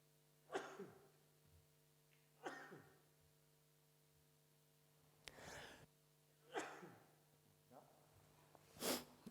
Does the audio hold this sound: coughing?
yes